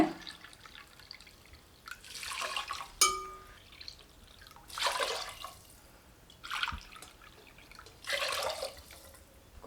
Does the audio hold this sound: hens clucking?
no